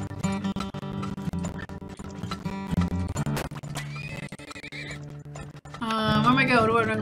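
A horse in a video game neighs repeatedly amid hoof clip-clops, ending in a loud, drawn-out whinny, with a person talking over it.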